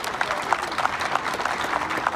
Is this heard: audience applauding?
yes